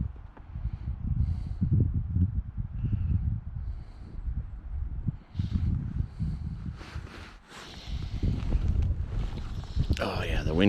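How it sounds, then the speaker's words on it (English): Gusting wind buffeting the microphone on open water during a fishing trip, a steady low rumble that swells and rises toward the end, with a person speaking faintly. "Oh yeah, the wind comes up just as I..."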